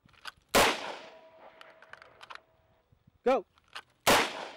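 Pistol gunshots fired at clay disks: two loud, sharp reports a few seconds apart, with a brief spoken word between them.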